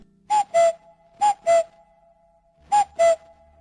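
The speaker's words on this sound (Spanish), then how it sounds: "También oigo al cuco muy cerca de mí." A common cuckoo calls close by in a spring garden: three clear two-note calls, each second note slightly lower, spaced by short pauses and heard on their own against quiet surroundings.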